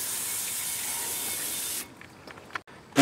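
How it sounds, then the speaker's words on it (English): Brake cleaner sprays onto a Jeep Grand Cherokee brake rotor during a wheel bearing replacement in a steady, loud hiss lasting nearly two seconds, then stops, leaving faint clicks and handling noises. "Now we'll spray it down with brake clean on the rotor."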